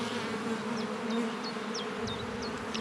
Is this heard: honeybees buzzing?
yes